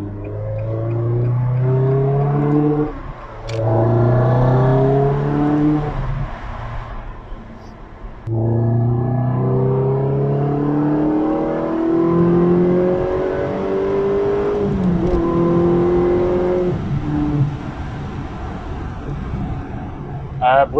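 Porsche 911 GT3 RS engine revving hard through the gears while driving, a loud rising howl that drops at each shift, heard from inside the car with occasional talk over it.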